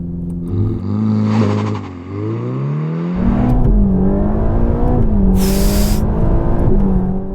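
A Ferrari Roma launches from 0 to 100 km/h on a damp street, the engine revving hard through rising sweeps with a brief dip at a gear change, loud and close throughout.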